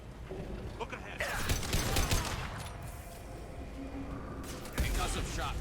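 Gunfire in the Mass Effect video game, bursts of shots and mechanical clatter at a fairly quiet level, with combat effects and occasional voice-like sounds.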